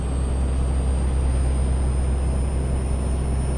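Heavy low engine drone of a Kenworth K100 truck in Euro Truck Simulator 2, steady and loud through a downshift, with constant rumble and faint high whine, no voices.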